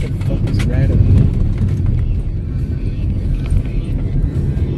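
A truck rolling past on the road outside a vehicle, a continuous low rumble of engine and tires, fairly loud and steady throughout.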